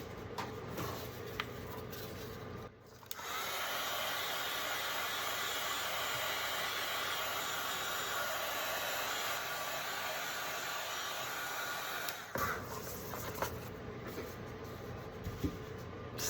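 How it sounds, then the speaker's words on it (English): A heat gun drying fresh paint on wooden 2x4 farmhouse candle blocks blows a steady, close airy roar that runs for about nine seconds, starting and stopping abruptly, with quieter handling noise before and after. "I think I'll hit it with a heat gun so I can kind of see what it looks like"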